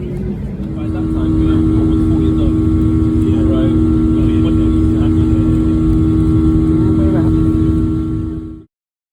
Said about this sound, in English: the captain just said ready for departure, so I think we're now about to go